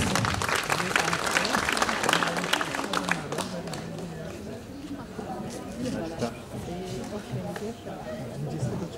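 An audience claps for the oldest resident of Kłaj at a village jubilee ceremony, a lively round of applause that fades into scattered claps as voices talk over it.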